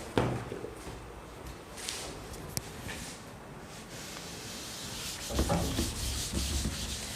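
A duster rubbing writing off a classroom board in steady scraping strokes, close and continuous, swelling louder toward the end.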